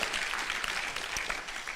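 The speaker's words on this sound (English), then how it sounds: "a round of applause for New Era for consistently hosting such a program" Audience members at a college women-in-engineering roundtable break into brief, dense applause, a close, even wash of clapping with no voices over it.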